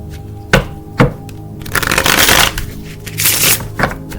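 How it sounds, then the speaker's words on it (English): A deck of tarot cards being shuffled close up: two short sharp riffles, then a longer dense rustling burst and a few more quick card snaps, with no talking. "Let's shuffle."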